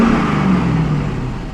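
A car engine runs at a steady idle, a loud, even hum with a faint drop in pitch partway through, and no starter crank heard.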